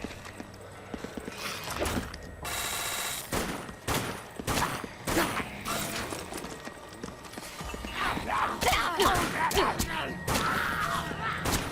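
Rifle gunfire in the Dead Nation video game cracks out in quick, irregular bursts of sharp shots over roughly twelve seconds. The shots land close and punchy, mixed with other game effects.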